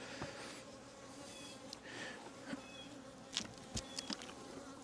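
Honeybees buzz steadily around an open hive during a colony split, a dense continuous drone with individual bees flying past close to the microphone and occasional soft knocks of equipment.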